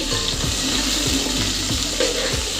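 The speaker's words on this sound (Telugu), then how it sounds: "ఆలుగడ్డ మంచిగా ఫ్రై కానివ్వాలి ఎర్రగా వేగిన తర్వాత" Onion, green chilli, carrot and potato fry in ghee in a pan for vegetable biryani, making a loud, steady close-up sizzle with a few soft low knocks of stirring at irregular intervals and no talking.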